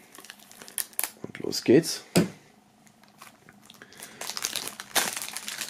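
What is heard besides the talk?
plastic shrink-wrap film crinkling as an album is unwrapped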